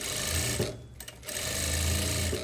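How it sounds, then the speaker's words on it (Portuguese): A sewing machine stitches the seams of a tailored skirt, its steady mechanical whir running loud and continuous, with a short pause midway before the motor picks up again. "sempre batendo costura"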